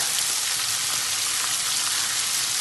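Masala ingredients frying in a hot pan for Kerala-style mackerel pollichathu, giving a steady, dense sizzling hiss that holds evenly throughout, close and fairly loud with no voices.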